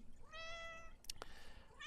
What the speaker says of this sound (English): Oh, shut up, cat.